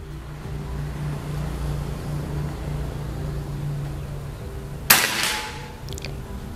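A single sharp shot from an upgraded Predator PCP air rifle fired at a 50 m target outdoors, one crisp loud crack with a short ringing tail standing out against steady low background hum.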